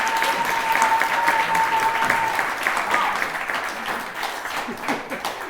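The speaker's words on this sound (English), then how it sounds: "Let's give a round of applause." A crowd applauds the panelists at a vegan debate event, steady clapping that swells and then slowly fades, with faint voices underneath.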